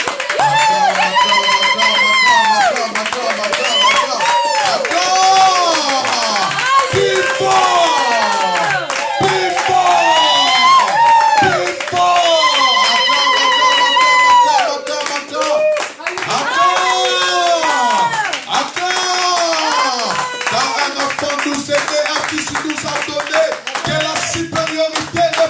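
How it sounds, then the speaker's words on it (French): A church congregation applauds and cheers the Lord in a worship service, with steady clapping and crowd shouts filling the whole stretch, loud and continuous, while sung or spoken voices ring out over it. "Est-ce qu'on peut acclamer encore le Seigneur?"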